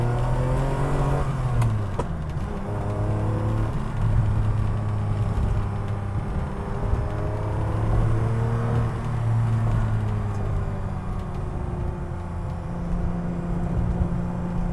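A Ferrari engine hums steadily from inside the cabin while driving on an open road, with smooth gear-like pitch shifts and a constant rumble of road noise.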